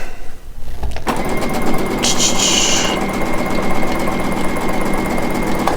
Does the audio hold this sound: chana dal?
no